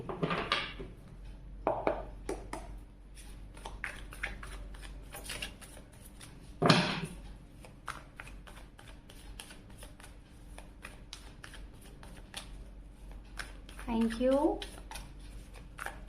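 Tarot cards being shuffled in hand, rapid soft riffling flicks and taps repeating throughout, close and quiet, with a brief louder riffle midway and a short stretch of faint talk near the end.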